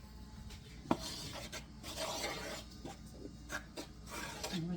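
Whole wheat dough ingredients are stirred in a bowl, soft scraping and rubbing strokes with a few light knocks, quiet and close with no talking.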